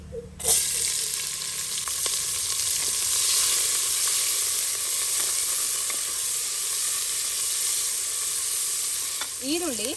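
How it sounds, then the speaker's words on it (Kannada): Chopped onion, added after cumin, frying in a hot pan for masala pulao, with a steady loud sizzle that holds for the full stretch and no talking. "ಸ್ವಲ್ಪ ಹೊತ್ತಿದನ್ನ ಫ್ರೈ ಮಾಡುವ. ಈಗ ಇದಕ್ಕೆ ಹಾಕ್ತಾ ಇದ್ದೀನಿ 1 ಈರುಳ್ಳಿ,"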